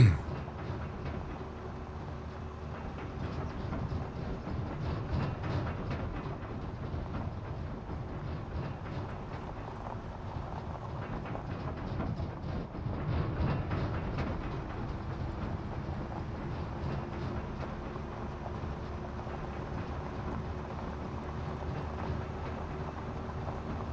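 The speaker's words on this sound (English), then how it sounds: "there's Dan in the train" A train rolls past a farm in a steady, continuous low rumble with faint clatter, holding a fairly even level for the whole stretch and swelling slightly midway as the cars go by.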